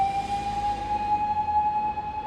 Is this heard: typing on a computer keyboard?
no